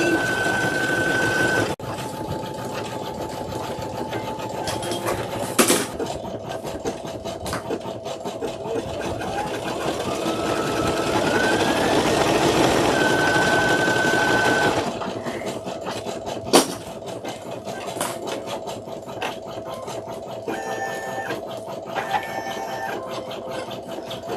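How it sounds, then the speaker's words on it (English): An embroidery machine stitches small star shapes, a steady, fast mechanical whir and needle chatter running continuously at close range, with a few brief clicks and pauses as it changes stitching. "So right now it's stitching some like little stars."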